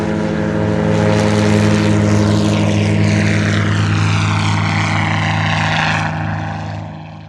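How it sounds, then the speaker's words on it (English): A 1964 Cessna 185 propeller airplane's engine drones loudly and steadily nearby at a STOL competition in Valdez, its pitch shifting slightly as it passes, then easing off at the end. "Rod Hanson now in a 1964 Cessna 185"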